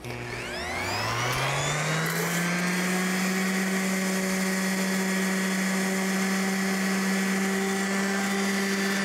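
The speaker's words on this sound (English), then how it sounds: "We're talking about sanding the edge and just softening up the edge." A power sander spins up and then whines at a steady loud pitch while softening the edges of new deck boards, running alone without pause.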